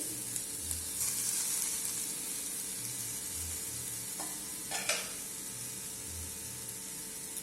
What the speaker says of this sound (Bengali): পেঁয়াজটা কত সুন্দর নাড়াতে পারছি এবং বেশ লাল লাল মতন ভাজা হয়ে গেছে পেঁয়াজটা